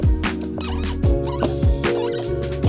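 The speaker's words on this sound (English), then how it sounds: "It might squeak because plastic." Plastic door card trim on an NC Miata squeaking as it is worked loose, a run of sharp rubbing squeals and creaks close up, with a few dull knocks of the panel in between.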